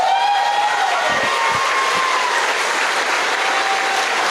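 Loud sustained applause from a large audience at a sales training seminar, a dense unbroken wash of clapping filling the whole stretch, with a few whistles rising above it.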